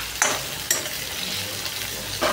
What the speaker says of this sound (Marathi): शिजल्यावरती आता आपण नूडल्स टाकूया. चला ते छान फ्राय होऊ दे राजा.